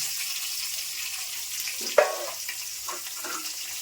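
Nigella seeds crackle and sizzle in hot oil, a steady hiss with a few sharper pops near the middle.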